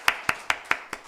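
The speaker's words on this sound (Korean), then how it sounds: "박수로서 한번 격려하도록 하겠습니다." Five sharp, evenly spaced hand claps in a church, close and fairly loud, each ringing briefly before the next, with the last one slightly softer.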